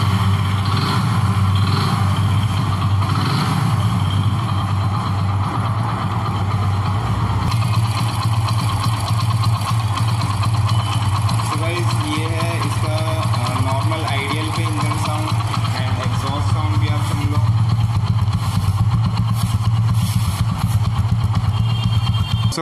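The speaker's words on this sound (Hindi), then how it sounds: "बाइक को स्टार्ट करके भी दिखा देता हूँ इंजन की कैसी साउंड है" A used Hero Splendor Pro motorcycle engine runs close to the microphone, a steady low idle thrum throughout with a few small throttle blips, while someone talks intermittently over it.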